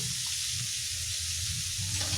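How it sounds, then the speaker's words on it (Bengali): Cauliflower florets fry in hot oil for bhog khichuri, giving a close, steady crackling sizzle with no break. "ফুলকপিগুলো বেশ লাল লাল করে ভেজে নিতে হবে"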